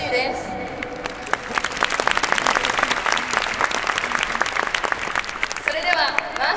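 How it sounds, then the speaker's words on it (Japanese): After a Seika girls' high school brass band performance, a large audience claps steadily and densely throughout, with a brief voice or tone at the start and near the end. "アンコールを用意しておりますので、長めの拍手をいただけると嬉しいです。"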